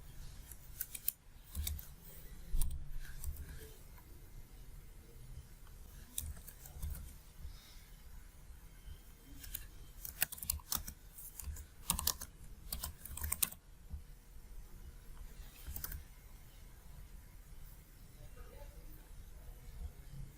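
Keys tap in steady bursts on a computer keyboard as questionnaire data is entered, close and fairly quiet, with short pauses between runs of keystrokes and no talking.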